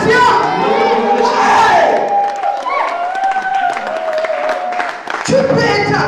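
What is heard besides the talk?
congregation cheering and acclaiming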